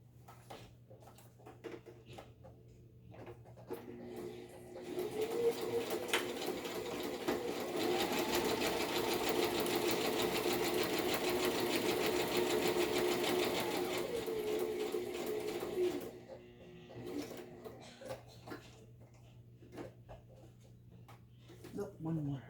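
A sewing machine runs steadily for about ten seconds while a pocket-side envelope piece is being stitched, with quiet handling sounds and brief talk before and after the run.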